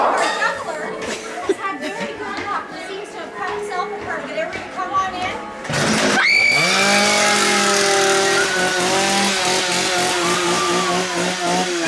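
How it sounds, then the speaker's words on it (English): A chainsaw engine starts up partway through at a haunted house attraction and runs steadily at a loud, droning pitch, with crowd chatter in the background. "We have a juggler that likes to juggle chainsaws."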